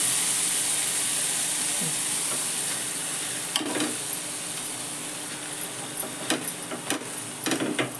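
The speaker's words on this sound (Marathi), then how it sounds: "असे सगळे पाव भाजून घ्यायचे." Pav buns toast in butter in a hot pan, with a steady close sizzle and hiss that fades slightly, then a few scraping and tapping touches near the end. Nobody speaks.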